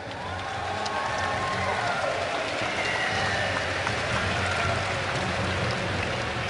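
Crowd at a League of Legends esports semifinal at Gamescom, Moscow 5 versus Fnatic, cheering in a sustained broad roar that fills the venue, with a faint voice underneath.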